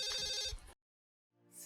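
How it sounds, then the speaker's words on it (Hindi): A telephone rings indoors in a drama scene: a short burst of trilling bell, then a pause of silence before the ring starts again. "फोन बज रहा है"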